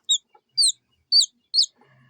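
Four high, thin peeps from a young incubator-hatched chick, evenly spaced and close by, followed by faint background noise.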